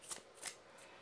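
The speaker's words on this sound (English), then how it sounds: "Let's go ahead and shuffle them to see how they shuffle." A tarot card deck being shuffled, giving two quick, soft papery riffles close by in a quiet room.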